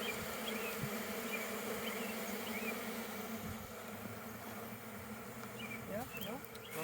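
Dense, steady buzzing of honeybees swarming around an open hive during a hive split, close and continuous, with faint voices in the background.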